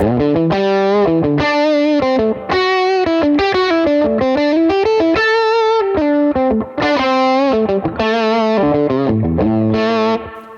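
Electric guitar through a Sean Tubbs boost pedal and Fender amp playing a fast melodic solo with a thick, woolly boosted tone, loud and sustained notes with bends, no voices.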